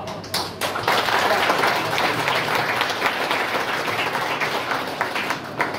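Seminar audience on religious harmony claps steadily for about six seconds, a dense, fairly loud round of applause with no talking over it.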